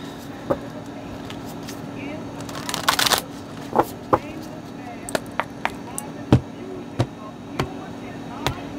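Oracle cards are shuffled by hand during a card reading: a short, riffling flurry of card noise, followed by scattered single taps and flicks as cards are handled and set down, close and fairly crisp.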